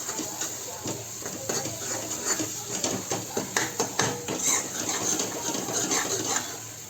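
Homemade misal masala being stirred in a pan for misal pav, a steady run of soft scraping and light clinks from the spoon against the metal, moderately close and continuous, with no talking over it.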